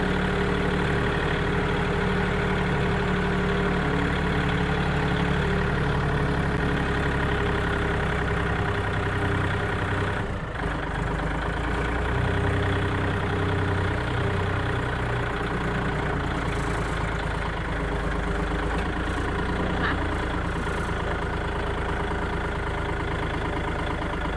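A farm tractor engine idles close by, a continuous low rumble with a mid-range drone that holds constant throughout, no voices.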